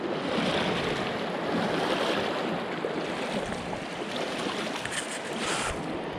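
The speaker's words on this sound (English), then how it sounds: "So the water actually is pretty shallow, but it is moving at a pretty fast little clip." The shallow, fast-flowing Lehigh River gives a constant broad wash of moving water, moderately close and fairly soft, with a slight hiss and no speech.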